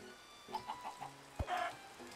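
A chicken in Minecraft gives a few short clucks, a quick run of soft blips followed by a slightly longer squawk, close and clear over quiet background.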